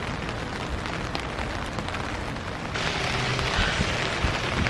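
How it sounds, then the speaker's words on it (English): Rain falls in the dark at a campsite near the showers as a constant soft hiss, growing slightly louder and brighter partway through, with no talking. "Dark outside and raining."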